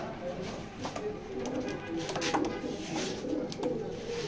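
Grizzle pigeons in a loft give soft, repeated coos, fairly close, over a steady background hum with a voice speaking now and then.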